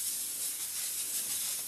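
A steam cleaner works over a patient's bed area in a hospital ward, a constant loud, airy hiss with no pauses and no voices.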